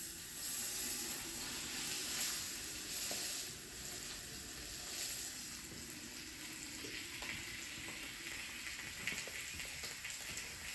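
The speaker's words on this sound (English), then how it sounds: "So we're gonna go ahead and drop them." Marinated pompano fish sears in a hot cast iron skillet with a steady, close crackling sizzle and a few small pops as the oil spits.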